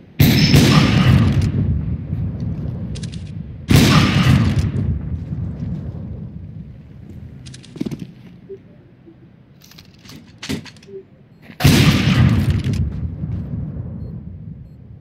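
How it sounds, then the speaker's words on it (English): Three loud, booming blasts from a grenade in a tactical shooter video game, each a sharp broadband burst that rolls off over a second or two, with softer clicks and rustles between them. "That's a grenade."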